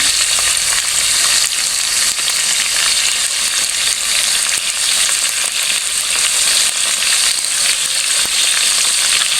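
Chicken liver deep-frying in hot oil gives a loud, dense, steady sizzle and crackle that runs unbroken throughout, close up and with no voices.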